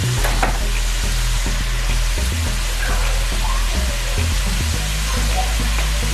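Minced garlic from a jar sizzling in a hot pan for chicken soup, a loud, steady frying hiss with occasional stirring scrapes and low thumps running throughout.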